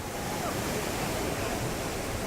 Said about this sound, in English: Way bigger rapids and not so many rocks, so super fun.